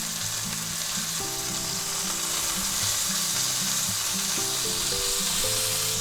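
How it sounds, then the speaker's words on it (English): Ribeye steak fries loudly in a hot pan while butter is spooned over it, a steady close sizzle with faint scraping and clinks throughout and no talk. "let's take some butter and quickly baste that"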